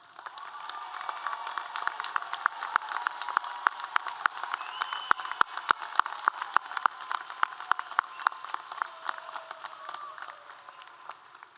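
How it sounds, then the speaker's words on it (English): At a 2022 graduate commencement ceremony, a large audience applauds from a distance in a hall, a continuous soft wash of clapping dotted with sharper individual claps and faint cheering throughout. "giving them a big round of applause"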